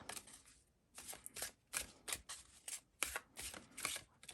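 Reading cards for an omen reading are shuffled in quick riffling bursts, a dozen or so short crisp flutters, close and quiet with brief pauses between.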